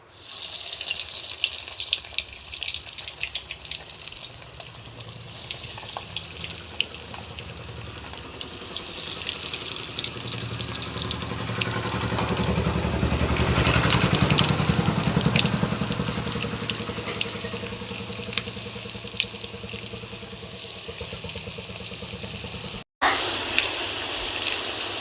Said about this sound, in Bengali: তেলটা কিন্তু ভালোভাবে গরম হয়ে গিয়েছে। এবার আমি ফিশ ফিঙ্গারগুলো একে একে এর মধ্যে দিয়ে দিচ্ছি।